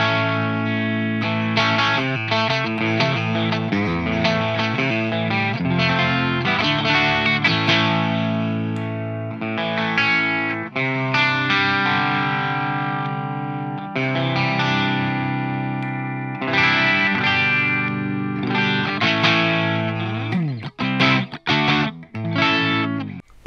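Electric guitar played through Quimera System pickups with coils switched between series and parallel, ringing out a run of distorted, chorus-tinged chords and single notes, loud and close with no talking, ending in a few clipped muted strums.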